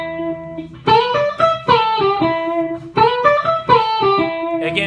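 A short pentatonic lick on electric guitar, played loud and alone through an effects unit with slight distortion: quick plucked notes in bursts, with sustained notes ringing between the phrases.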